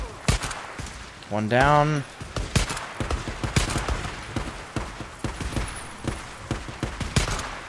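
Repeated sharp gunshots from a long-range gun in the zombie survival game Days Gone, cracking out in an irregular volley over ongoing battle noise while someone talks over the shooting.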